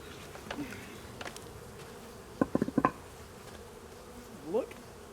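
Honeybees at a hive during a January inspection, foragers loaded with yellow pollen, give a faint, steady buzz with a few brief, louder bursts as individual bees pass close by.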